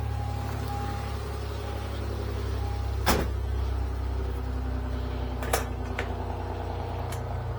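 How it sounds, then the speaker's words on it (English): A car engine with low coolant idles steadily with a low, even rumble, broken by a couple of brief sharp clicks or knocks. "Such a good sounding car."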